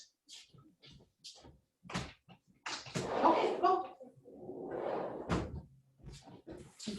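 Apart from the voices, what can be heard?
patio door opened and closed to let a dog out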